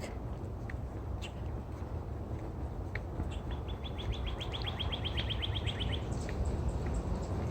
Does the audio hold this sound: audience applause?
no